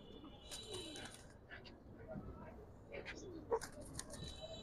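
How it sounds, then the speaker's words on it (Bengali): Giribaz pigeons from Keraniganj at a pigeon seller's place in Old Dhaka, cooing softly and faintly in short repeated phrases, with low voices nearby. "এটা কেরানীগঞ্জের কবুতর"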